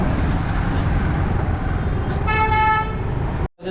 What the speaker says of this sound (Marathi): पाहू शकता आमच्या बदलापूरची ट्रॅफिक इकडे दाखवतो